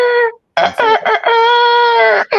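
A voice imitates a rooster crowing in the small hours before dawn, giving a short nasal call, a pause, then a long drawn-out crow with a wavering middle and a brief tail at the end, loud and close.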